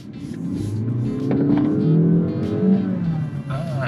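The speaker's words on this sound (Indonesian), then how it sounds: "Nah ini mati EV-nya, kita masuk mesinnya." A Honda HR-V e:HEV hybrid drives uphill as its petrol engine takes over from electric mode, a steady engine hum rising and swelling in pitch over a few seconds, loud and close inside the cabin with no talk.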